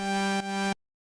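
A gritty FM synth lead with the first oscillator set down to 16 holds a buzzy, harmonically rich sustained tone, dips briefly partway, then cuts off abruptly into silence.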